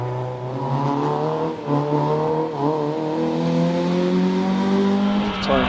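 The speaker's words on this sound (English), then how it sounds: "Tom Weaver continues on up in the Citroen Saxo" A Citroen Saxo rally car climbs a hillclimb, its engine loud and near, revving hard through rising and falling gear changes with brief dips and a sharp rise at the end.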